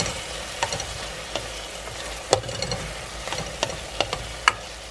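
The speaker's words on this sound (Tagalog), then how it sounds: "Hintayin lang natin silang mag-translucent yung sibuyas at saka mag-luto konti yung bawang." Garlic and onion sauté together in a pan for a pork sinigang, with a steady sizzle and several sharp clicks and scrapes from stirring.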